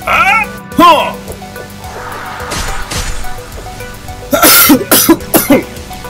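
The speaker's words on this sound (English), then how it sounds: "Sorry, I'm coughing." Several sharp coughs burst out near the end, loud and close, after a stretch of background talking and clatter.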